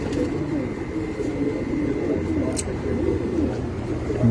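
Racing pigeons coo on a rooftop loft, a steady murmur of overlapping low coos going on throughout at moderate level, with faint wind and distant background noise.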